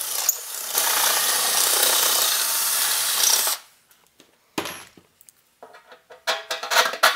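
A power drill enlarges a hole in a metal tube amplifier chassis, whining loudly and steadily for about three seconds before stopping, followed by short clicks and handling knocks nearby.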